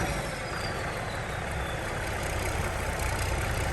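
A tractor engine runs while leveling soil for a new garden, producing a constant low, heavy rumble at close range with no talking.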